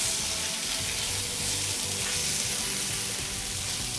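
Curry for aloo mattar paneer, seasoned with garam masala and about a tablespoon of salt, is stirred in a pan: a steady, dense sizzle with soft scraping underneath, fairly loud and continuous throughout, with no voices.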